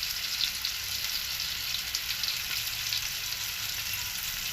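Tomatoes cook in a spiced tempering with turmeric for Maharashtrian dal, a soft, even, moderately quiet sizzle with a low bubbling undertone and no talk.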